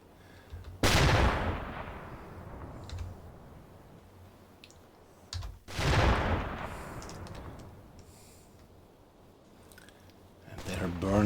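Deck gun of a U-boat firing on a small ship in the naval game UBOAT, set in early April 1944: two loud, booming shots several seconds apart, each trailing off into a long rumbling decay, with a voice at the end.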